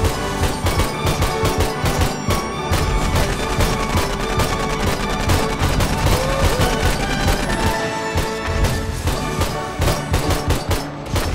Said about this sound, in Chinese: 类似的101烟火还蛮好看的哎